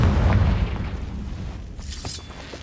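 A Confringo blasting spell detonates in Hogwarts Legacy with a loud, deep boom at the start that rumbles and fades, followed by a fainter crackle near the end.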